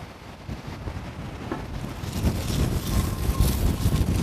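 Outdoor wind gusting across a microphone while fresh fish is cooked in the open, a broad rushing roar that builds louder toward the end.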